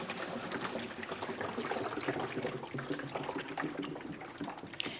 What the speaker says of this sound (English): And here they're going to turn the water over.